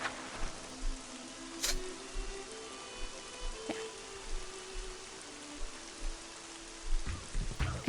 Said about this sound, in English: Over here it's been raining a lot more again